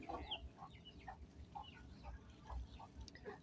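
Native domestic chickens on a home farm give soft, repeated clucks at a steady pace, faint and close, with no speech over them.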